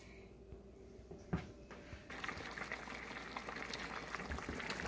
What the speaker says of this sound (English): It's been boiling now for about 10 minutes.